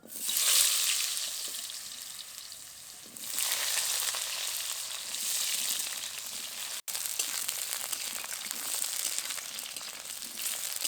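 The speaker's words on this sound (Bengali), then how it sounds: "সর্ষের তেল দিয়ে ভালো করে গরম করে নেব। আলুগুলো দিয়ে ভেজে নেব।" Potatoes frying in hot mustard oil, a dense, steady crackling sizzle that swells louder after a few seconds and carries on unbroken, close and with no voices.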